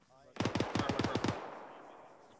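A rapid burst of about eight close, sharp gunshots during a military field training exercise, each crack ringing out over a short decaying echo, then quiet.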